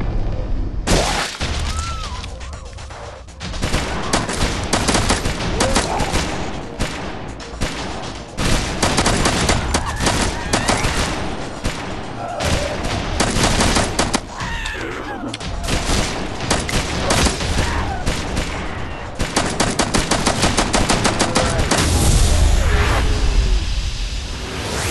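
Sustained gunfire in the mobile shooter game Kill Shot Virus, with dense automatic bursts, single shots, booming explosions and whooshes stacked loud and close, while voices speak intermittently through the fight.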